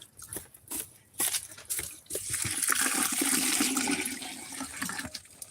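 Water poured from pots into a bucket during evening farm chores, a splashing, gushing pour that starts in bursts and then runs steadily for several seconds, close and fairly loud.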